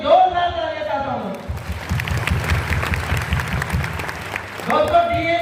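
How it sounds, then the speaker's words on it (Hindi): Clapping swells from an audience at a company leadership event in Raipur, a few seconds of dense applause between stretches of someone speaking to the crowd. "उन सभी के लिए एक जोरदार तालियां चाहता हूँ"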